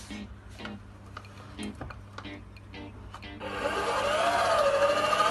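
A stand mixer kneads focaccia dough at low speed, starting about halfway as a steady, fairly loud whirring drone, preceded by soft ticks and clatter of ingredients and bowl handling.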